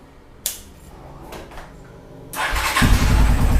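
A Honda CB125 SE motorcycle engine cranks over briefly, then catches and starts, settling into a steady, loud running rumble close by.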